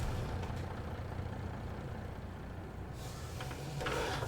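A truck in Farming Simulator 22 gives off a steady, dense engine rumble with broadband road noise, and a brighter hiss rises near the end.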